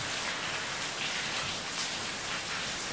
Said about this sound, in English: It's starting to rain. As you can hear.